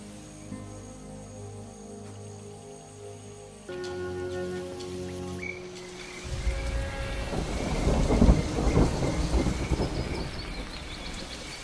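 Steady rain pours down while thunder rumbles in, growing louder and heavier toward the end; no voices.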